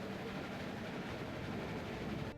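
A train in The Walking Dead video game rolls along in a steady, moderately quiet rumble with a continuous mechanical drone and no voices.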